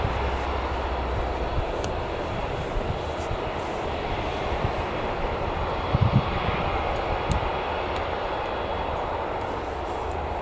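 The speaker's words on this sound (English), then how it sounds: "Just for anybody who missed that EasyJet taking off" An EasyJet airliner takes off at Newcastle Airport, heard as a steady, broad jet roar with no distinct events. It holds at moderate distance throughout, with faint incidental sounds and no speech.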